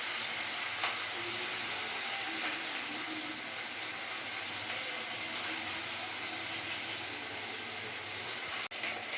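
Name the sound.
chicken pieces frying in oil in a wok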